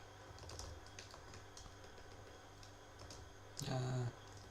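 Soft, quick keyboard clicks tap away at an uneven pace over a quiet room hum, with a brief tone near the end.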